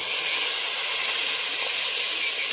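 A steady, loud hiss of water sizzling in a hot pan on a wood-fired stove, continuous and unbroken for the whole stretch.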